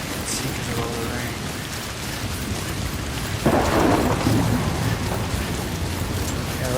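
Rain in the video game Death Stranding, a steady hiss of falling water that swells into a heavier, louder downpour partway through, with faint rumbling underneath.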